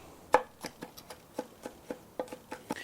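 Garlic minced with a knife on a cutting board near a reverse-seared ribeye: a run of about a dozen quiet, evenly spaced chopping taps, close and clean with no talk.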